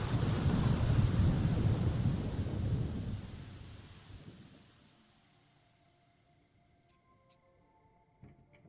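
Thunder in The Sims 4 rolls loud over rain, then fades away over several seconds into near quiet, leaving faint game tones and a small click near the end.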